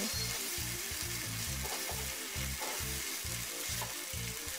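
Steady sizzling of boiled chickpeas frying in a pan, with a repeated scraping rhythm of stirring running throughout, close and continuous.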